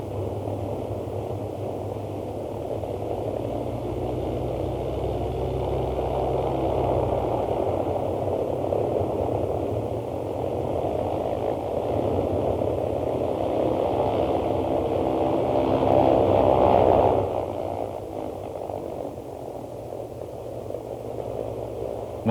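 Deep, sustained roar of a four-engined Liberator bomber's Pratt & Whitney Twin Wasp radial engines, a dense droning hum that swells toward a peak then eases, continuous with no talking.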